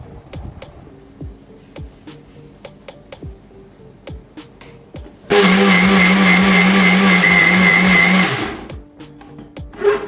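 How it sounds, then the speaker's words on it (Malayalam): A kitchen mixer grinder whirs loud and close for about three seconds as it grinds ingredients to a fine paste for a no-bake recipe, starting abruptly after light clicks and handling sounds, then cutting off. "മിക്സിയിൽ അടിച്ചിട്ടാൻ പോകുന്നത്"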